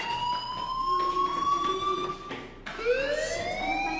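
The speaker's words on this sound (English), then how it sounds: "do you hear that fire alarm? That means you should be outside." A fire alarm in the video game Life Is Strange wails with a rising, siren-like tone, looping continuously and loudly, briefly dropping out before swelling again.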